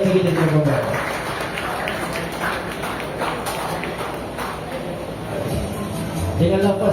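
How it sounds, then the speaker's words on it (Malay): Guests clap for VIP guests at an 8th anniversary celebration at Restoran Salai Power, steady dense applause throughout, with an announcer's voice at the start and end. "Satu tepukan untuk VIP kita tuan-tuan."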